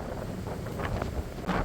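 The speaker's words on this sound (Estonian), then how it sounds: "Natuke tuuline on" Wind blows steadily across an Estonian beach on remote Ruhnu Island, a continuous broadband rush with gusty swells that buffet the microphone, and no voices.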